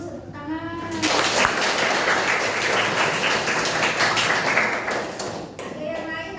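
A classroom of students claps in a sustained burst of several seconds, loud and steady, with a voice briefly heard before and after the clapping.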